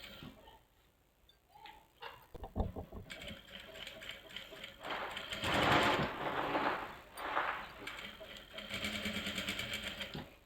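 A sewing machine stitches close to the neckline of a frock, with short mechanical whirring runs and clicking handling noises, the longer runs coming in the second half, while someone talks over it.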